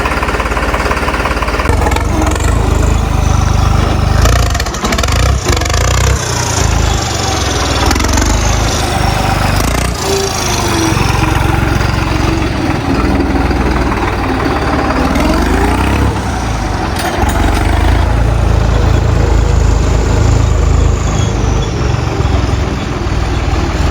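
A New Holland 855 tractor fitted with 4WD runs close by, a steady loud diesel rumble with knocking chatter that holds continuously, with no talk over it.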